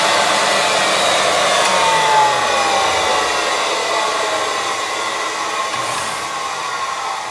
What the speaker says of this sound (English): We're gonna be cutting the valves.